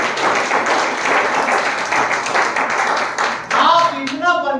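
A church congregation claps during a sermon, giving a dense run of many hands clapping for several seconds. As the clapping fades, a voice begins speaking over the tail.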